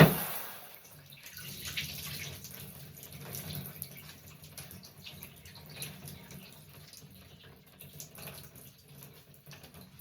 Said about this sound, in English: I'm going to rinse out the fabric